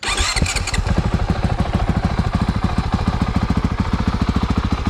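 A 2022 Honda CRF 450RL dirt bike engine catches and settles into a steady, fast, thumping idle, loud and close, with a rapid even pulse and no voices.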